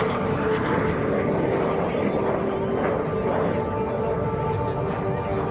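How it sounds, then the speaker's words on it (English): A MiG-17 jet fighter roars past on a 550-knot high-speed photo pass at the 2017 Rhode Island ANG airshow, a loud sustained broadband engine rush with a public-address voice speaking over it. "one of the most maneuverable aircraft ever, the MiG-17, on its high-speed 550-knot photo pass."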